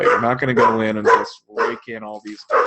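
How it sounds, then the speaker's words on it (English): Dogs bark intermittently in the background of an indoor talk, the short barks mostly buried under a man's continuous speech. "really sorry about the dogs in the background"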